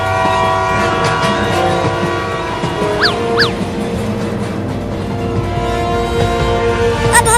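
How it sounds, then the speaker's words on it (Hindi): Cartoon train effect with a steady mechanical rumble and rail clatter, two short rising whistle toots in the middle, and a faint hiss as it eases toward a stop; fairly loud and continuous. "देख ट्रेन धीरा हो रहा है।"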